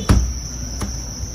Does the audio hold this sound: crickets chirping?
yes